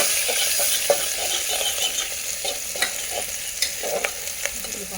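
Steady sizzle of spices frying in hot oil as tempering for mutton tambda rassa, with occasional sharp clicks of a spoon stirring against the pot.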